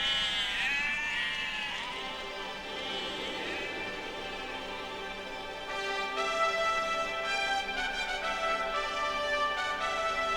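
Sheep bleat repeatedly in the English countryside, with several wavering, overlapping calls that sound fairly close and carry over continuous background noise. There is no talking.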